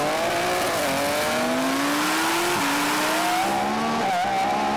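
Lamborghini Revuelto, BMW M3 Touring and Audi R8 in a rolling drag race from about 40 mph in second gear, engines screaming loud and close as revs climb steadily with brief dips at each upshift.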